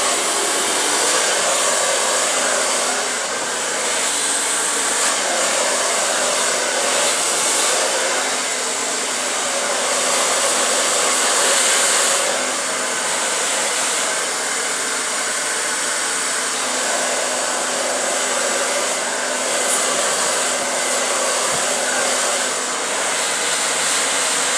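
Continuous whirring blast of a hair dryer blow drying hair with a brush, its airflow rising and dipping slightly as the brush moves, close and steady for the whole stretch.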